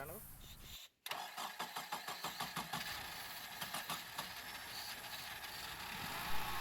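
A Honda Civic with a crank-no-start fault cranks on contact cleaner sprayed into the intake: a brief cut, then a steady run of rapid starter cranking pulses that catch into a close, rough idle.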